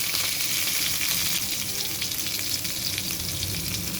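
Pieces of eggplant, cut and washed, sizzle hard in hot oil in a wok, a dense, steady crackling hiss that runs loud and unbroken with no voices over it.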